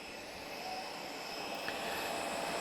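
A Spanish-registered Yak aircraft of the Yakstars Patrol taxis at the Portugal Air Summit 2022 airshow, its engine a steady, broad drone held at moderate distance without a break.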